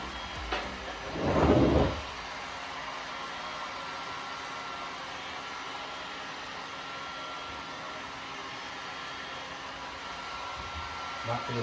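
A heat tool blowing hot air over glued decoupage trim on a wooden side table, a steady airy whoosh running throughout with a brief louder thud early on, no talking.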